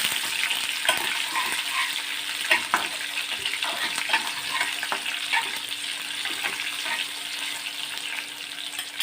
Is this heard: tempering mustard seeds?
yes